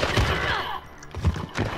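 Bursts of gunfire in Call of Duty: Black Ops 4: a loud rattling volley in the first half, then two sharp separate shots close by, with no talking.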